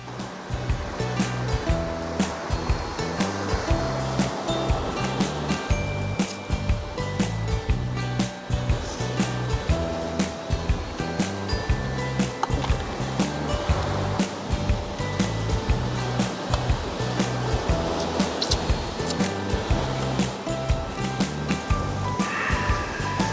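Sea waves wash onto a beach beside a campsite in Khao Lak–Lam Ru National Park, Phang Nga, Thailand, a continuous rushing surf with repeated swells, fairly close and loud, with no talking.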